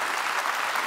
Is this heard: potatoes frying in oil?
no